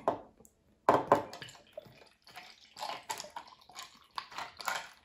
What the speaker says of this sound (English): you want to fill up with ice and then pour the rum punch